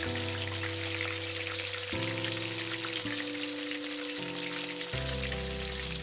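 Marinated chicken frying in hot olive oil in a pan gives a steady sizzling hiss under background music that changes notes in steps.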